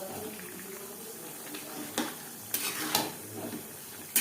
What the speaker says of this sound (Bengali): লাউর সাথে মাছ বেশ ভালো করে মিক্সড করে দেব